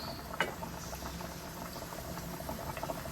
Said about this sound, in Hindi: ये भगार मैं इसके अंदर डाल दूँगी